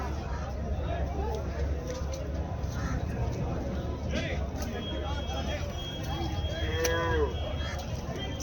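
Water buffalo moo amid steady crowd hubbub at a busy buffalo market in Erode, with a few mid-distance lowing calls rising over the background din.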